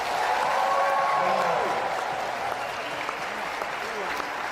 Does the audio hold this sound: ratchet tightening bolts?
no